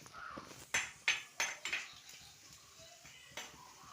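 A spoon clanks and scrapes against a cooking pan while dried red chillies are stirred for a crab curry, five or six sharp close knocks over a quiet background, no talking.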